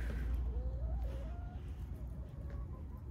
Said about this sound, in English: meat birds are doing good.